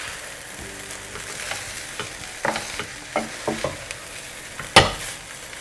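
Veg pulao gets stirred in a kadhai: soft scraping strokes of a spoon through rice at an irregular pace, over a faint sizzle, ending with one sharp metallic knock against the pan.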